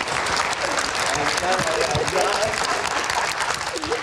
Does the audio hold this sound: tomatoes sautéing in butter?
no